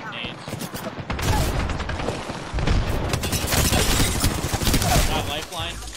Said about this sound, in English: Oh, big nades.